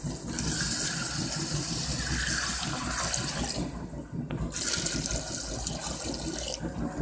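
Water pours steadily into a cooking pot for a large 3.5 kg batch of rice, a continuous rushing splash that stays loud and close throughout, briefly thinning once before resuming.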